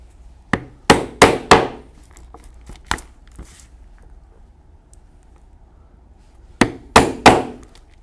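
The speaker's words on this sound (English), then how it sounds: "we have 4 more holes to punch, and these will be for the purpose of setting some rivets" Hammer blows drive a punch through leather to make rivet holes for a biker saddle bag: sharp, close strikes come in quick clusters of two or three, with a lone hit between and quiet pauses in the workshop.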